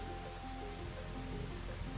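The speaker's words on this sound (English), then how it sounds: "I'm standing out here all alone in the pouring rain on a bridge" Steady pouring rain in a video game scene, a dense continuous hiss of drops with a low rumbling bed and faint background tones, no voices.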